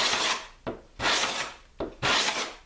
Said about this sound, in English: It's just getting a nice clean shaving off.